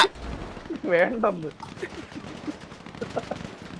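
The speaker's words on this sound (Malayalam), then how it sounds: "എല്ലായിടത്തും വെടിവെപ്പ് അതല്ലോ." Bursts of rapid video-game gunfire crackle in the background while a voice talks loudly over them.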